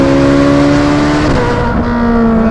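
A Ferrari 458 Speciale with a Novitec exhaust revs loudly and close by on an open road, its naturally aspirated engine holding a sustained high, harmonic wail whose pitch dips and shifts as the revs change.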